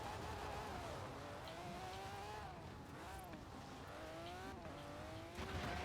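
Car driving in Forza Horizon 4 with tires squealing, a continuous engine drone whose pitch sweeps up and down through the clip as the car slides around corners, steady and fairly loud throughout.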